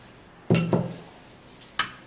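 Spoon clinking against a bowl while two tablespoons of yogurt are mixed in, two close clinks in quick succession, then a third sharp clink after a short pause, no voices.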